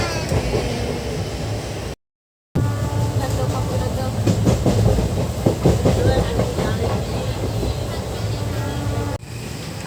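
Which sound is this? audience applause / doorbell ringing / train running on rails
train running on rails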